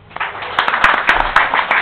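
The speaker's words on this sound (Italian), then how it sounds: "Un applauso." Audience applause at a conference, a burst of clapping that builds quickly and stays dense and moderately loud for a couple of seconds, heard alone without voices.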